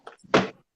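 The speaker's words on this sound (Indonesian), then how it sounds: "Nutup pintu dulu." A door swings shut with a brief scrape followed by a solid thunk, close by and fairly loud, with silence after.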